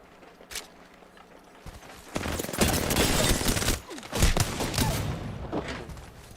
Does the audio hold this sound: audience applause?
no